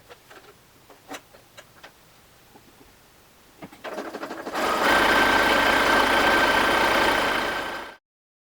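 A sewing machine starts with a few light clicks, then runs in a steady loud whir for several seconds as a stretch stitch sews a gusset onto the back of a sweater, stopping abruptly.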